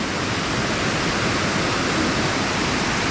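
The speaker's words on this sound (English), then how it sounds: "Well, just the River Severn's quite high at the moment." The River Severn running high, a loud, steady broadband rush of fast-flowing water that fills the whole stretch without a break and with no voices.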